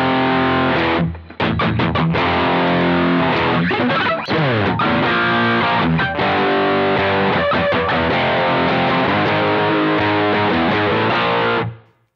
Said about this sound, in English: Let's try distortion.